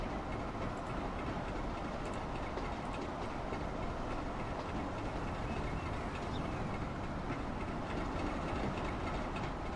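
A train rolls out of a depot in the video game Transport Fever, giving a steady, even rumble of rail noise and clatter that holds for the whole stretch, with no talk.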